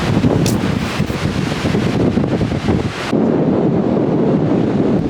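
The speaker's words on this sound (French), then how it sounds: "Il y a du vent." Loud, roaring wind blasting the microphone at the beach in Hossegor, with surf-like rushing underneath; the gusts ease slightly after a few seconds but stay strong.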